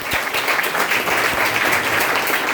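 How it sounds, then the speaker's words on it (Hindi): An audience gives a speaker a loud, dense round of applause at an event, a steady wash of clapping that holds for the whole stretch. "जोरदार तालियों से वेलकम करिए।"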